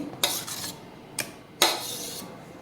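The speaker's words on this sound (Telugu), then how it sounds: "ఇప్పుడు కలుపుతున్నాను" A spoon scrapes and clinks against a bowl three times as jackfruit cake batter with milk is stirred, each stroke followed by a softer swishing; quiet otherwise, no talking.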